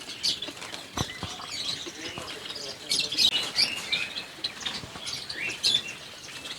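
Lovebirds and cockatiels of opal and silver varieties chirp and tweet continuously in a breeding aviary, a busy overlapping chorus of close high calls with occasional wing flutters and a few sharp knocks.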